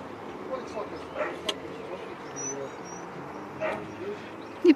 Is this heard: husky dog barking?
yes